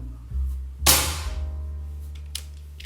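A single sharp crack from a bare-stocked air rifle, fired close by, with a brief tail of noise afterward and a faint tick a moment later.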